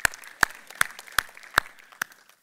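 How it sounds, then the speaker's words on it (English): About six sharp hand claps ring out at an even, quick rhythm and fade by the last one, heard during a church sermon gathering in Nashville. "I'll clap on that."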